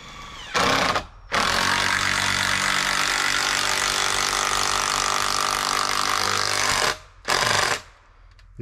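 A power drill drives thick screws into the tenons of a wooden carport shelter on ready-made concrete anchors. It sounds loud and close: a short burst, one long sustained grinding run of about five seconds, then another short burst.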